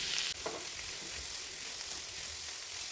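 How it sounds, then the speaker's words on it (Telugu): Grated carrot fries in ghee in a pan, a brief clatter at the start, then an even, close sizzle that holds steady throughout. "ముందుగా తురిమి పెట్టుకున్న క్యారెట్ తురుము ఇందులో వేసి మంచిగా ఫ్రై చేసుకోవాలి"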